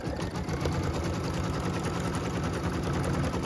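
An embroidery machine stitches a cut line through a hooped quilt block piece, a steady, close, rapid needle chatter running unbroken throughout with no talking.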